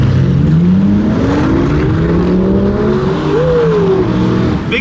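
A Lamborghini engine revs hard at a car meet, a loud, close, rising roar that climbs in pitch through several gear-like sweeps before settling, dominating the scene with no clear speech.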